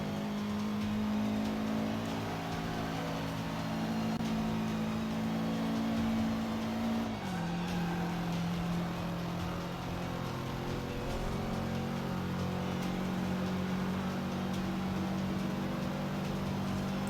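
A race car's engine in Forza Motorsport holds a steady, loud drone, then its pitch drops sharply midway as the car shifts or eases off, before settling into a lower sustained note with no talk over it.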